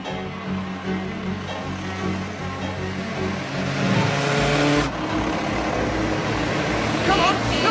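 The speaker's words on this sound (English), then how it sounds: "This is a patrol car, not a chase car." A police patrol car speeds through a chase, its engine roaring and revving steadily with a surge partway through, while people shout over the noise inside the car.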